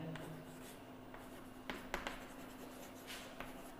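Chalk or marker scratching across a board during a Hindi-language physics class on electric field lines, with several short strokes and taps at close range in a quiet room and no talking.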